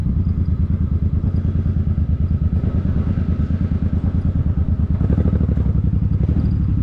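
A Suzuki Boulevard C50 cruiser motorcycle in good condition rumbles close by on a Dallas street, its steady low engine throb and chugging firing pulses running throughout, swelling slightly near the end.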